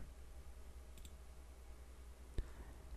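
A single mouse click lands near the middle of a quiet stretch, faint and close against a low steady hum, with a softer tick or two just before.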